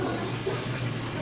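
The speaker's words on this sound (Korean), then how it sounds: "수도꼭지 대신 설치된 오래된 펌프." Water gushes steadily from an old hand pump installed in place of a faucet in a shared kitchen in Dhaka, a close, continuous splashing flow.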